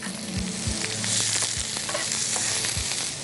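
Chopped onion sizzles steadily in a hot pan on a cooking show, a dense continuous frying hiss with a few soft knocks of stirring, close and loud with no talk.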